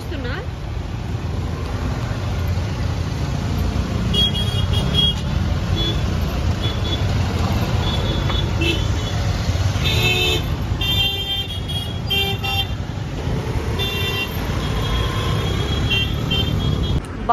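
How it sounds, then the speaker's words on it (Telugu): Busy road traffic in Goa, a steady rumble of passing cars and trucks with scattered short horn toots and beeps rising above it, while a person talks throughout. "ఈ రోడ్ లో మాత్రం ఫుల్ ట్రాఫిక్ అన్నమాట ఫుల్ వెహికల్స్ అన్ని ఇక్కడే ఉన్నాయి"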